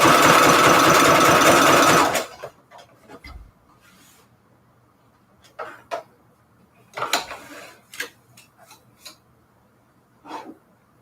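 A sewing machine stitches with red thread on vintage price tag Christmas embellishments, a loud steady mechanical whir for about two seconds, then quieter scattered rubbing, tapping and handling sounds.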